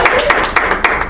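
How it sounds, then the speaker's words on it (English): A single person claps their hands in a room, about eight close, sharp claps in a quick, slightly uneven rhythm. "Is it weird I'm clapping for myself?"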